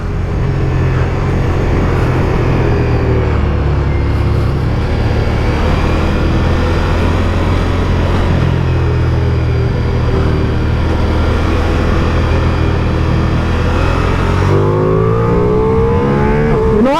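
A 2023 Ducati Diavel V4 chain-driven motorcycle engine revving steadily while riding on a mountain road, a loud continuous drone with shifting pitch and wind, dropping and rising near the end.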